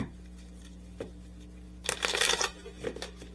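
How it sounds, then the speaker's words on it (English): Tarot cards shuffled in a quick riffling burst with a few light taps before and after, heard alone against a low steady hum. "Let's just clarify one more time using some tarot cards."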